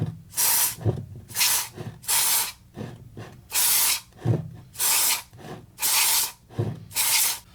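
Electronics cleaner is sprayed onto John Deere RX95 mower parts in seven short, sharp hissing bursts at an even rhythm, close and fairly loud, with quiet gaps between.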